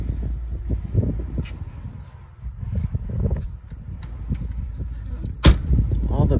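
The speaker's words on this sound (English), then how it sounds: "The doors open and close nicely." Doors on a 2019 Keystone Montana 3561RL fifth-wheel RV opened and shut, giving soft clunks and a sharper latch bang amid outdoor rumble and handling noise.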